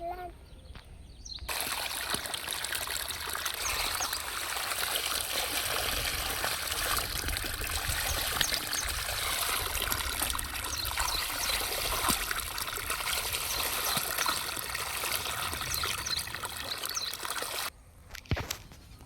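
Borewell water pours into a farm field, a loud continuous splashing gush that starts abruptly after a quiet moment and runs steadily before cutting off near the end.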